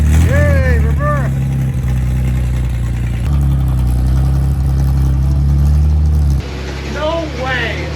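Old custom car, unrun for some forty years, its engine running in a steady low rumble while it backs up, loud and close, with excited voices talking and shouting over it.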